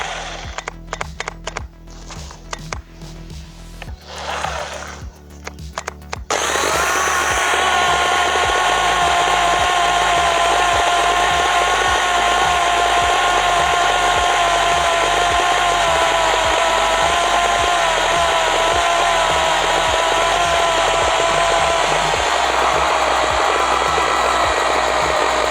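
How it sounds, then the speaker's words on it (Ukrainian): A faulty Taiga electric chainsaw motor, sparking at the brushes, sputters on and off in stuttering bursts, then spins up to a loud, steady whining run. "з-під щоток йдуть іскри і пилка вмикається через раз"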